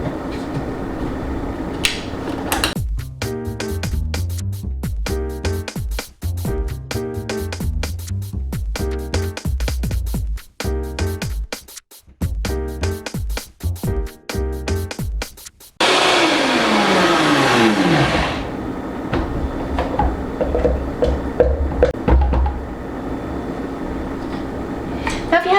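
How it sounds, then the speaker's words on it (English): A countertop blender whirs through a vegan cheese sauce in loud pulsing bursts, then runs steadily at high speed for the last stretch with no talk over it. "We're going to blend that up,"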